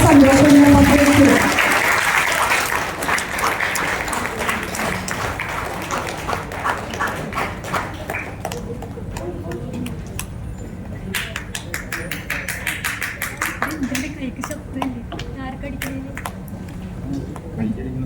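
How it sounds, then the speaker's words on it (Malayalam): An audience applauds at a 50th wedding anniversary lamp-lighting, the clapping strongest at first and then continuing steadily beneath light chatter and tapping for most of the stretch. "എല്ലാവരും ഒന്ന് കൈയടിച്ച് ആ സന്തോഷം പങ്കെടുക്കുക"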